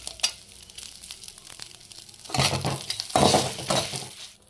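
Chana dal and rock salt fry in a pan, with a low sizzle and light scraping that swells into two louder bursts of crackling and stirring near the end; no one talks.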